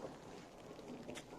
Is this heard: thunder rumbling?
yes